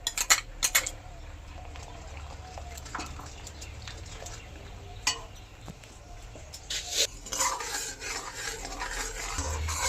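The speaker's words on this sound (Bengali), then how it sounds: "এইবারে এই পাউডার দুধটাও মিশিয়ে দেব।" A spoon stirs and scrapes against a metal pot as powdered milk is mixed into thick, long-boiled milk for chhanar payesh, with irregular clinks and rasping scrapes at close range.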